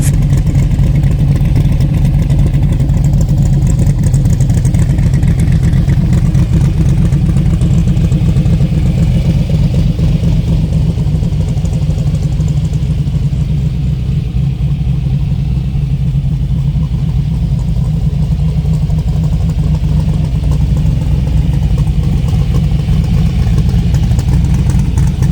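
A Factory Five MK3 Shelby Cobra's engine rumbles loudly and steadily at idle for a long stretch, with a deep, uneven burble and mild swells in throttle.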